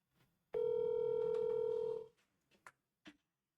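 A telephone tone sounds as a single steady, loud electronic tone lasting about a second and a half, followed by a few faint, brief clicks and rustles in near silence.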